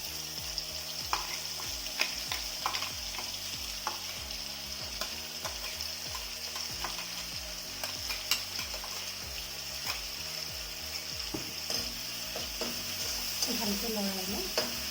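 A paste of cumin, coriander, black pepper, ginger and garlic sizzles in a pan for fish curry, with steady frying hiss and repeated scraping stirs clattering throughout, close and fairly quiet.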